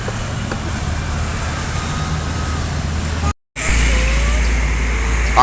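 Steady roar of road traffic with Sumbar buses rumbling past nearby, briefly cut to silence before the loud traffic noise resumes.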